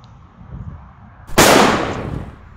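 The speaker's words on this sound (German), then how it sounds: "Funke Super Böller 2, 2017er Charge, dadurch, dass er ein Schallerzeuger ist" A Funke Super Böller 2 firecracker from a 2017 batch with 8 grams of net explosive mass bursts in a single sharp, loud bang outdoors, followed by a brief decaying rumble.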